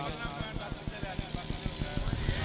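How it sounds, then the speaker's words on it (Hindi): A tractor engine chugs at a tractor disc competition, its steady rapid firing pulses thumping along at moderate distance under a constant crowd and announcer background. "माशा जी ट्रैक्टर आ रहा जी"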